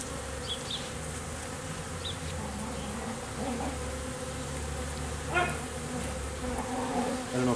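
A honeybee swarm hums steadily throughout, a dense continuous buzz close by with individual bees droning past at moments, no speech.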